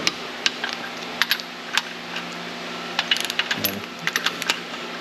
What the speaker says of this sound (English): So we tighten these down to 75 foot-pounds.